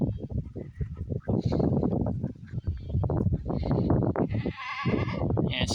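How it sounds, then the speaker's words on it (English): Goats in a farm pen, including a breeding buck and a doe with a newborn kid, with bleats rising over shuffling and background noise, loud and close in short bursts. "So he's a good goat either way."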